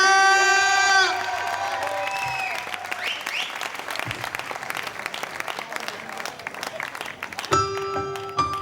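A concert crowd in Piazza Manzoni, Jesolo, applauds the drummer at a show: dense, steady clapping and some cheers fill the space between a sustained musical chord that fades at the start and music returning near the end.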